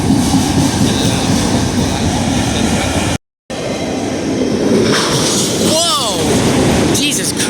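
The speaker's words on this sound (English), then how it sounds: "Oh my god, there's the train!" A CSX freight train passes close by, loud continuous rumble and rail noise with wheel squeals and clatter, broken by a brief silent gap, while a person exclaims excitedly over it.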